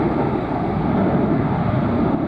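A loud, steady F-35B Lightning II jet engine roar, revved up with gear down at an airshow, fills the air with broadband rushing noise and a wind-like hiss.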